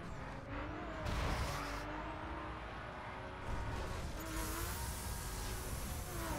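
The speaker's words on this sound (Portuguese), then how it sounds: "esse carro tá saindo muito de traseira" Race car sliding out at the rear during a race in The Crew, set in Las Vegas: a steady loud engine drone with tire squeal and skidding swells, continuous throughout with no talk.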